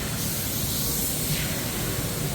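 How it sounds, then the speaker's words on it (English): A spray can mists adhesive onto a cabinet piece before gluing, heard as a steady close hiss lasting about two seconds, with no talking. "then I'll spray this next piece, glue it to this piece"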